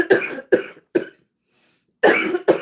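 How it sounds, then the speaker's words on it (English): Several sharp coughs in a row, close and fairly loud, with a short pause before two final coughs. "Or talk about this cough trying to come."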